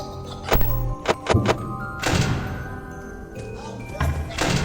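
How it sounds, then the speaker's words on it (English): Vent bang in the Five Nights at Freddy's game, several sharp metallic thumps and knocks in a cluster followed by a duller bang, over a steady electronic hum and game noise. "once they're ready to attack, you'll hear a distinct vent bang"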